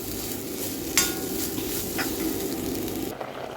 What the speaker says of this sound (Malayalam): ഒരു ഒന്നൊന്നര പിടി തേങ്ങയും കുറച്ച് കുരുമുളക് കുറച്ച് ഉലുവ കുറച്ച് പെരിഞ്ചീരകം ഇത്രയിട്ട് നമുക്കൊന്ന് വറുത്തെടുക്കാനത്